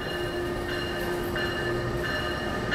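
Steady low hum and tonal drone of an idling NJ Transit locomotive-hauled train standing at a station platform, with faint clanks and ambient rumble, no talking.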